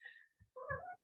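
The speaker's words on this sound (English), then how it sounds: "I've got a noisy cat here." An indoor cat gives two short, close meows, a thin high note followed by a fuller, louder cry, with soft low thumps in between and no talk.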